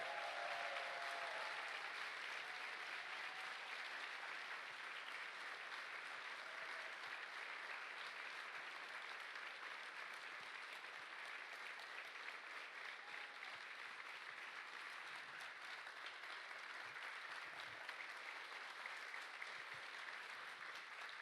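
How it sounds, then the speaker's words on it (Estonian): Sustained applause from a concert audience at a folk dance group's anniversary performance, a steady wash of many hands clapping that continues evenly for about twenty seconds, fairly distant and not very loud. "Palun suur aplaus!"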